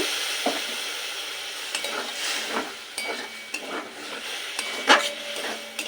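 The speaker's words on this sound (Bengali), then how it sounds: "এবার এই বাটি সিল ধোয়া জল বাটিতে একটু তুলে রেখেছি সেটাই অল্প পরিমাণে দিয়ে দেব" Onion and poppy seed paste frying in a pan as a little water is added, giving a steady sizzle broken by stirring scrapes and occasional clinks of a utensil against the pan.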